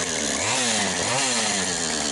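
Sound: chainsaw sawing firewood

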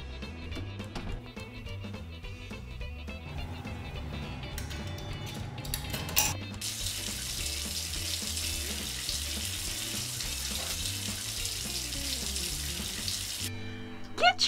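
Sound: shower water running in an RV park shower

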